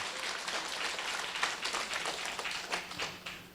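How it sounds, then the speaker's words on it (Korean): Seminar audience gives a sustained round of applause for a company CEO, a soft, somewhat distant rattle of many hands with uneven swells. "여러분 뜨거운 박수 한 번만 부탁드리겠습니다"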